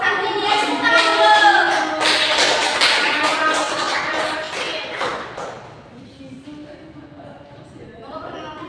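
Classroom applause for the first student group presenting a news text lesson, a dense burst of many hands clapping under mixed voices that fades after about five seconds into quieter room noise.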